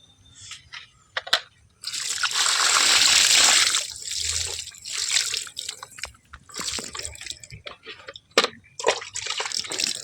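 Water poured from a container onto a freshly planted chayote in a farm plot, a steady splashing gush for about two seconds followed by intermittent trickles and drips, no talking.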